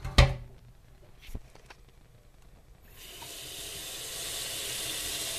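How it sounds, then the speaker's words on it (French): After a few soft clicks and knocks, a tap starts running and water pours steadily into a saucepan, filling it almost to the brim, growing slightly fuller in tone. "on va la remplir d'eau."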